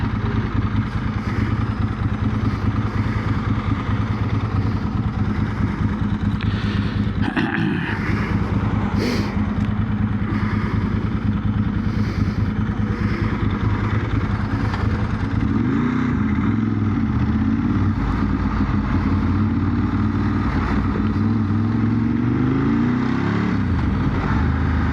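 A Ducati 916 motorcycle rides along the road, its engine droning steadily and loudly throughout with rising and falling revs, wind rush and mechanical clatter.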